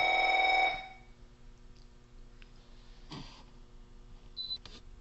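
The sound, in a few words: telephone ringing, interrupting the speaker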